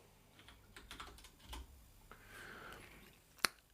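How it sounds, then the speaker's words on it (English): Keys on a computer keyboard are tapped in a quiet, sparse string of soft clicks, ending with one sharper, louder keystroke near the end. "Let's quickly type list to see the code"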